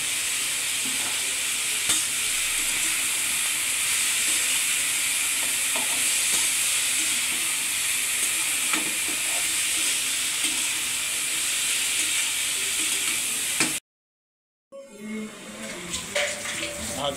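Bottle gourd peel bhaji sizzles loudly in a pan with constant frying hiss and stirring scrapes, broken by a brief drop to silence before the clatter and sizzle resume.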